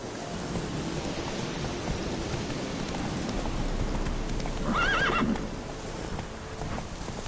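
Roach the horse in Witcher 3 galloping through rain, steady hoofbeats under a constant wash of rainfall, with a short whinny rising partway through.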